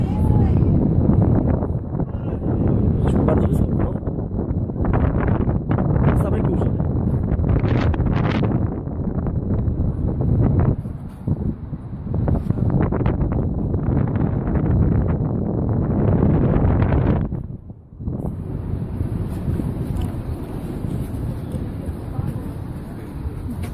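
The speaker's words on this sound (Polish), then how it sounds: "masakrycznie tutaj wieje" Strong, gusty wind buffets the microphone near the Eiffel Tower in Paris, loud and continuous for most of the clip with a brief lull near the end, while a person talks over it.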